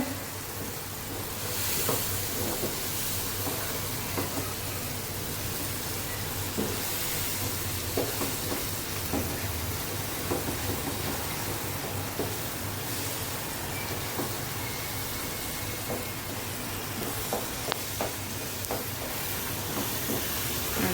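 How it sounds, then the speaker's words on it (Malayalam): Ladoo mixture is stirred steadily in a hot pan, producing a continuous soft sizzle and scraping hiss with faint spoon knocks throughout, close and even in level with no speech. "നന്നായിട്ട് ഇളക്കി കൊടുക്കണം, അടി പിടിക്കരുത്."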